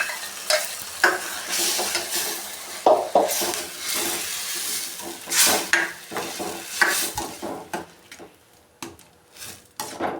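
Ground tomato and sugar sauce, made from four tomatoes, added to frying gobi manchurian in a pan: irregular scraping stirs and clinks of a spoon against the pan over a soft sizzle, close and alone with no talking.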